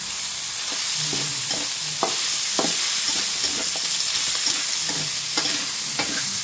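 Pork sizzles in its own rendered fat for a Baguio beans dish, a steady loud frying hiss broken by repeated scraping stirs of a utensil in the pan.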